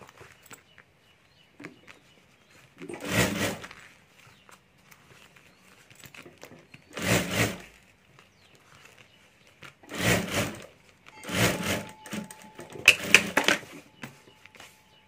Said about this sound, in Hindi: तो यहाँ भी ऊपर एक सिलाई कर देता हूँ मैं